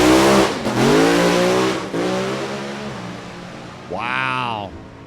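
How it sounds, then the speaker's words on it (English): A drag racing car at a Bowling Green drag strip launches off the line, its loud engine note climbing steeply through gears, then a second rising rev follows near the end. "Looks like Rob Feister's car came off the line, had a good launch"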